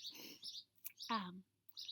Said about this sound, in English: Do you guys hear that bird? That bird is so loud.